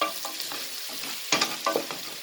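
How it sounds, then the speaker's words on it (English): A roux is stirred in a pot for a lamb stew with beer and rosemary, giving soft scraping and light sizzle with a few louder spoon strokes against the pot near the end, with no talk. "So let's stir it really quickly."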